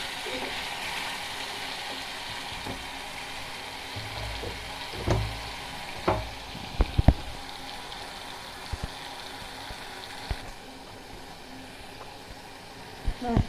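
Spice masala stir-fried in oil, a low steady sizzle with scattered spatula scrapes and knocks against the pan, fairly quiet and close.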